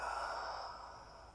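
Single soft, breathy exhale during a Pilates arm rotation, close and steady, fading out over about a second.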